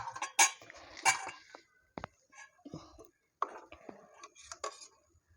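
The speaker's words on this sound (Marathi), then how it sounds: "बेसनच्या गुठळ्या सुटेपर्यंत मिक्स करून घ्यायचं आहे" A spoon stirs gram flour into yogurt in a bowl for Marathi-style kadhi, making brief clinks and scraping taps in irregular bursts between quiet gaps, close and fairly faint.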